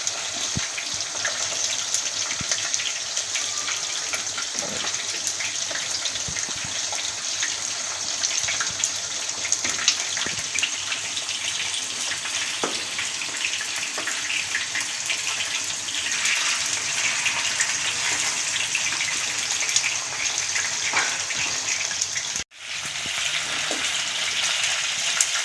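Pieces of fish curry sizzling and frying in a pan over a fairly high flame, a loud steady hiss and crackle with no speech over it.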